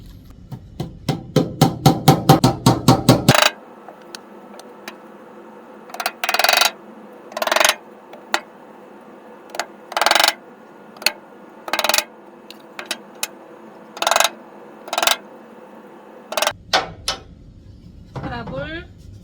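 Short nails are hammered into a pinewood drawer bottom, starting with a fast run of light taps, then a series of separate sharp strikes in short bursts, close and loud with quiet gaps between.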